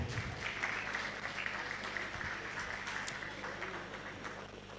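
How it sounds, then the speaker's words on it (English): Audience applause at the AFIDFF Heritage in Motion 2026 event, a steady wash of many hands clapping that carries through the whole stretch, moderately loud and slowly fading toward the end, with no talk over it. "Please clap for him."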